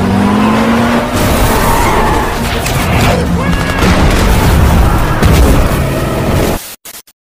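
A car roars along amid heavy, continuous explosions as bombs are dropped onto enemy trucks in a brutal US versus China battle, a dense, loud wall of engine noise, skids and blasts that cuts off abruptly.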